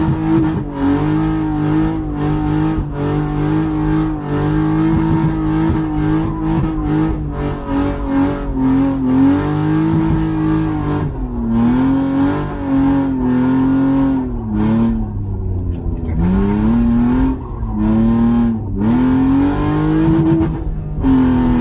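Sedan on dry-rotted tires doing donuts, its engine revving loudly and continuously with rising and falling pitch while the tires squeal, close by and with no talk.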